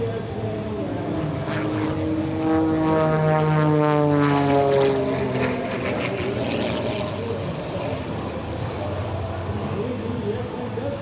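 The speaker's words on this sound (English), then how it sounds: "It's the torque roll. That's the torque of the engine. Spinning the airplane around." A propeller plane's engine drones steadily during an airshow torque roll, its pitch sweeping and shifting as the aircraft maneuvers, loud and continuous throughout.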